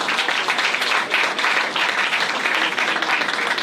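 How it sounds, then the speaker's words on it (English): An audience gives a round of applause at a New York City community event, a dense, steady wash of many hands clapping that holds loud and unbroken throughout. "let's give them a round of applause as well"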